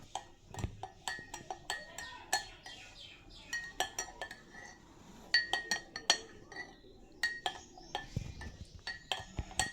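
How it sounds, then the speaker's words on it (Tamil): Spoon clinking and scraping against a glass or steel vessel while spices such as cumin powder are stirred into banana stem juice, a quick irregular run of bright metallic taps with faint birdsong in the background. "சேர்த்து நல்லா மிக்ஸ் பண்ணி விட்டுக்கோங்க."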